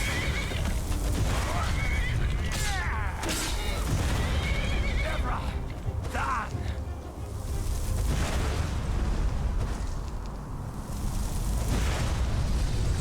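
A donkey in the Enderal video game gives loud, rising whinnying brays over dense combat noise with booms and hoofbeats, while a person talks over it.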